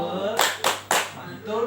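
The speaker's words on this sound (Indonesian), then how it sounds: "Kita tepuk mantul dulu yuk." A group of women at a teacher training session doing a rhythmic clapping chant, with three sharp, loud, evenly spaced claps in unison between short bursts of voices.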